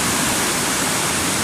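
Strong floodwater rushes down the Piñan river in a dense, steady roar that fills the whole clip, loud and close with no break.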